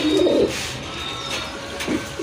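A pair of fancy archangel pigeons coos in short, low, throaty bursts at the start and near the end, close to the microphone, with faint background hiss between calls.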